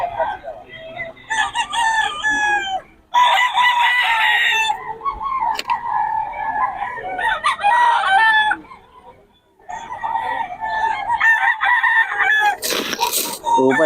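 Chickens and roosters for sale at a market crow and cluck loudly and close by, with overlapping crows in several bursts. Faint voices can be heard in the background.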